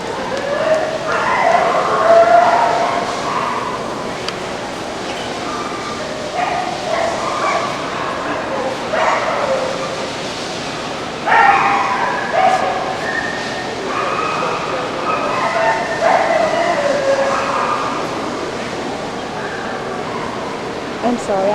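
Dogs barking and yipping at an indoor dog show, with repeated sharp barks and some whimpering spread throughout, moderately close amid crowd noise while people talk.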